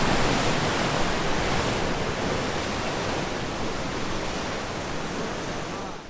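Wild sea waves crashing at Brothers Point on the Isle of Skye, a loud, dense, continuous roar of surf close by, slightly easing toward the end, with no talk.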